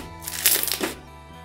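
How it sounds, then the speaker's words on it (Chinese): Ice cube mojito slime with lots of small ice cubes and lemon bits, stretched by hand, gives a brief burst of loud crackling and popping that fades after about a second. "简单拉伸都有噼里啪啦的声音"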